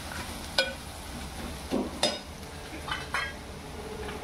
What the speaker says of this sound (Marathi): कांद्याला जरा ढवळून घ्यायचं